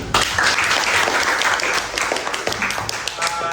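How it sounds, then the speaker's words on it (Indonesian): A classroom of students gives a steady round of applause for a group that has just presented, the dense clapping filling the room close by and continuing evenly throughout. "Tepuk tangan lagi sekali."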